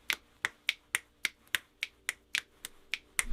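Sharp, close finger snaps repeat about a dozen times in a syncopated pattern, each crisp click evenly spaced with nothing else behind them.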